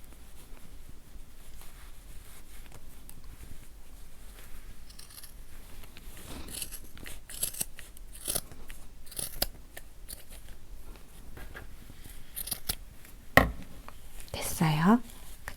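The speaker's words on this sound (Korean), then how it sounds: "여기로 다 잘라주세요." Scissors snip through chunky fabric yarn while a crochet bag is being made, a few crisp close cuts over quiet room tone, with soft low-voiced talk in the background.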